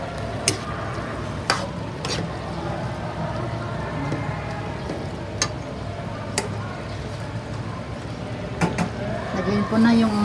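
Mixed vegetables simmering in coconut milk with bird's-eye and long green chilies are stirred in a pan, a steady sizzle and bubbling with occasional scraping clinks while a person talks over it.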